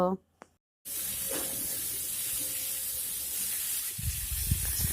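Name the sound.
potato pieces with turmeric frying in pan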